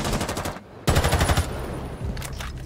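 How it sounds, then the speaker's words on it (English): Automatic gunfire in a shooter game, an enemy firing through a wall: two rapid bursts of closely spaced shots, a pause between them, then a shorter trailing volley, loud and close. "he's shooting through the wall"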